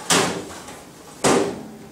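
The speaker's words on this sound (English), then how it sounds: "and slowly bring the door down." Two soft hinged thumps, each with a short settling rattle, as the Insinger Commander 18-6 commercial dishwasher door is lowered, close and alone with quiet room tone between.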